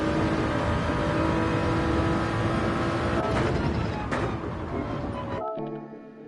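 A race car in a racing video game accelerates out of a corner on the Dragon Trail circuit, its engine revving loud and close for several seconds before the sound cuts off abruptly.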